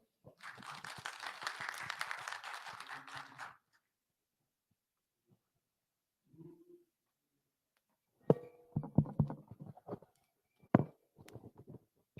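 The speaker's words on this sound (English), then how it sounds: "Please give a round of applause." A seminar audience claps for about three seconds in a brief, fairly quiet burst. Silence follows, then scattered thumps and handling noises.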